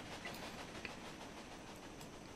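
A steam-era train running in the Railway Empire video game, a steady faint rumbling hiss with soft rhythmic clatter of wheels on track, continuous and distant.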